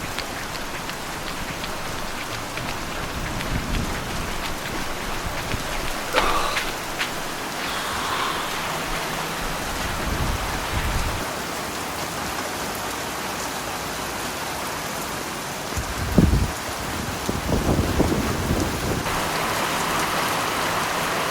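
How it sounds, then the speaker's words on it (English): Heavy rain pours down in a dense, continuous hiss, with occasional louder splashes and patters nearby. "Torrential downpour."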